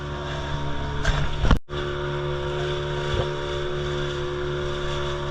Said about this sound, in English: this is just a bit of a lovely boat ride.